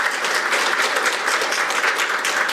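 A crowd applauds steadily, dense clapping filling the space without pause from start to finish.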